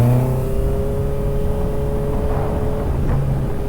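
Low, rumbling exhaust of a big bike motorcycle engine, revving up close with rising harmonic tones over a steady throb, loud and without talk.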